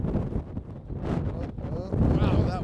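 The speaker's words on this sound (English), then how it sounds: "wind is something else, isn't it?" Strong wind gusts buffet the microphone out on a lake during a fishing trip from a boat with a small outboard motor, a steady broadband rumble running throughout with people talking over it.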